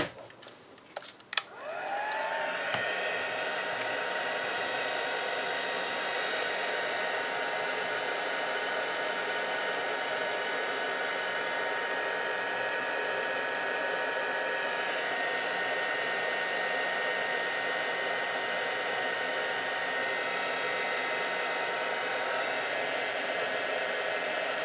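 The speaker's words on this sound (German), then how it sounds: "ich gehe jetzt aber nochmal kurz mit dem Föhn drüber" A hair dryer runs steadily at close range, blowing over a handmade New Year's card to dry the glue and stamped paper, starting with a click and then holding a constant whooshing roar with no talk.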